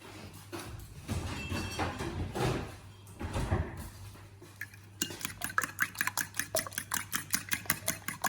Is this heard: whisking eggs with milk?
yes